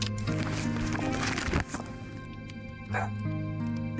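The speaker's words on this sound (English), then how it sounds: "Sorry, my dog's just barking her head off." Izzy the dog barks in a short burst of loud yaps near the start, then a single later bark over a steady background hum from game sound.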